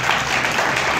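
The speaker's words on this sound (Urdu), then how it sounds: "زوردار تالی بجائیں۔" A church congregation claps loudly at an evangelist's urging, a dense, steady burst of applause filling the whole moment with no break.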